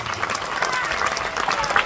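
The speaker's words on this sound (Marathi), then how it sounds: "जोरदार टाळ्या यांच्यासाठी" An audience at an academy felicitation for police recruitment candidates claps in a dense, steady burst of applause, close and continuous for about two seconds, with crowd murmur blended in.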